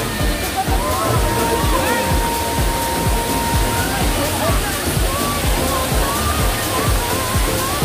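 Daranak Falls in Tanay, Rizal, a waterfall giving a steady, loud, broadband rush of falling and splashing water that fills the whole scene without a break.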